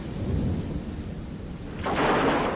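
Thunderstorm in a radio drama: a deep rolling thunder rumble fills the first part, then heavy rain swells in and hisses loudly over continuing low rumbling, with no voices.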